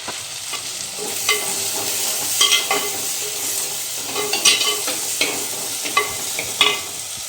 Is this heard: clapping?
no